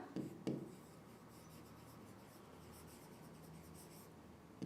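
Faint scratching of a pen or pencil writing on paper, soft and continuous, with a couple of light taps near the start.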